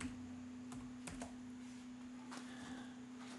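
Keys on a computer keyboard click in short irregular bursts of typing, close and fairly quiet, over a steady electrical hum with no voices.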